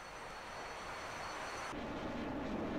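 The jet engine of a Mirage 2000C in flight in DCS World drones steadily and evenly, and its tone shifts partway through.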